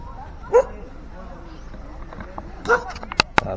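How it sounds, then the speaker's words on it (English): Dogs on a beach after a storm give a few short barks and yips, one near 0.6 s and a cluster near 2.7 s, over steady surf and ambient outdoor noise, with sharp clicks near the end. "A lot of beach dogs here."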